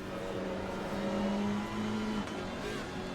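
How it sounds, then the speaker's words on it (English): An Alpine GT4 race car at Monza in a racing video game, a faint engine tone climbing through the gears with shifting pitch, no talk heard. "I have to say that Alpine car sounds really nice."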